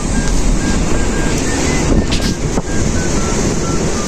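Strong typhoon wind roars past, buffeting the microphone in a loud, continuous rush with surging gusts, blending with a surf-like wash throughout.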